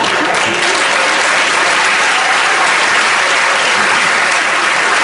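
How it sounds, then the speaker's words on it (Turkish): A studio audience at a Turkish comedy sketch show applauds loudly and continuously, a dense, steady wash of clapping from many hands that fills the whole stretch without letup. "Seyirci alkışlamayın şunu."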